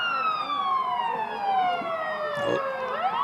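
Emergency vehicle sirens wail close by at a Christmas parade in Buffalo, their loud sweeping tones dropping in pitch as the vehicles roll slowly past, with a brief voice underneath.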